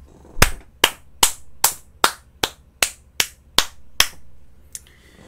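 A single person claps ten times at a steady, deliberate pace, each sharp clap loud and close with a brief room decay, followed by a faint rustle at the end.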